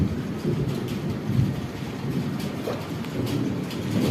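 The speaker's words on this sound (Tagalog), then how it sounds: "Ulan na naman, yan, lakas ng kidlat" Steady heavy rain pours down in Thuwal, Saudi Arabia, with low, rumbling thunder rolling underneath, a dense continuous storm sound with no voices.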